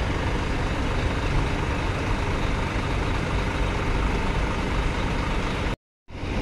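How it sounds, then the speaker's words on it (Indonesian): A European Scania haul truck idles at a ship loading area, its engine making a steady, loud, low rumble that drops into brief silence near the end. "Ini truk pengangkutnya nih, truk Eropa nih, truk Scania."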